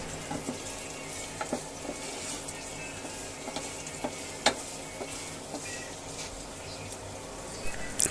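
Onion fries with chicken in a pan, a soft, continuous sizzle under occasional sharper pops and utensil scrapes, fairly quiet and close.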